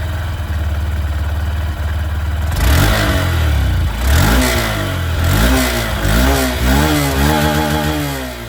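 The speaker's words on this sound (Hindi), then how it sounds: "अब मैं आप लोगों को यहाँ पर SP125 की जो आवाज़ है वो भी मैं आप लोगों को सुना दूँ।" A 2025 Honda SP125 motorcycle idles loudly, then is revved in a series of rising and falling throttle blips, its exhaust note close and prominent with no talking.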